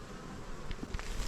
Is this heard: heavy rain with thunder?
no